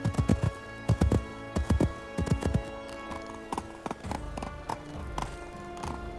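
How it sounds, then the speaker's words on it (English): Hooves clip-clop in quick bursts on a hard surface, then the rhythmic hoofbeats fade and thin out as the horse moves away. "mounts the horse given to him at the palace and sets off from there"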